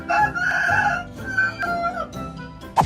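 A chicken crows loudly and clucks close by while kept alongside a monkey, the drawn-out calls repeating through the moment with no talking.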